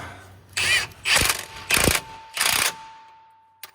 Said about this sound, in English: You'll need a 19mm wrench and socket for this one.